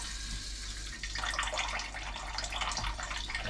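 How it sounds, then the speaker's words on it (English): A household tap in Australia runs at full strength, a steady loud rushing hiss that starts after a brief quieter moment and then pours on without a break. "the maximum amount of water that is coming out from the faucet, coming out from the tap"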